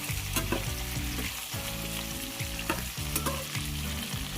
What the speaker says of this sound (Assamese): ইয়াতে কাটি ৰখা আলু পিচ দি দিছোঁ। আৰু এনেকৈ ধুনীয়াকৈ লৰাই মেলি লগত মিক্স কৰি দিব।